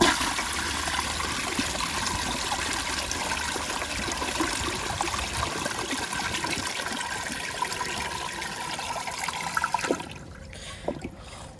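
An American Standard Space Saver Cadet toilet flushes with a steady rushing, gurgling wash of water for about ten seconds before cutting off to faint trickles.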